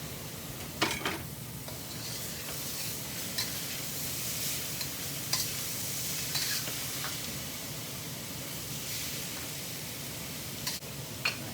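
Ground turkey cooking in a pan for an egg roll in a bowl gives a steady broadband sizzle throughout, with a few brief scrapes and stirring knocks scattered over it. There is no talking.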